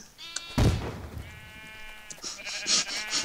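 Sheep bleating in a video game, several close, clear bleats coming one after another over a short stretch with faint game sounds underneath.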